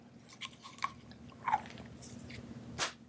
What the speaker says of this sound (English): So I'm going to give you these 4 baby aspirin. I just need you to chew them up and swallow